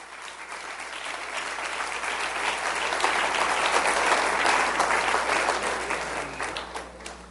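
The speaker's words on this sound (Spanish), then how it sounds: "Démosle un aplauso al Rey bendito." A church congregation claps together during a pastoral Bible study, the applause swelling gradually to a peak in the middle and then fading, moderately loud and without speech on top.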